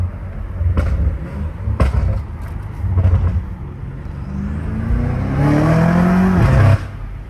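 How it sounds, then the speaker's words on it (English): A 617-horsepower BMW M5 Competition on its stock exhaust idles with a few sharp throttle blips, then revs up in a long, loud, rising roar heard close by before cutting off abruptly. "that roar, dude, I don't understand how this car roars like that with stock exhaust"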